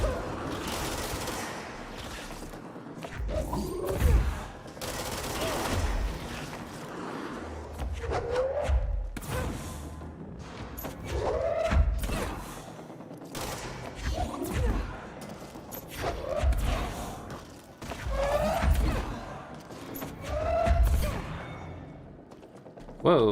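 Enemy gunfire aimed at the player in a video game, repeated scattered shots and bursts of varying loudness over about twenty seconds, mixed with mechanical clanks, creaks and game effects, with a voice occasionally talking.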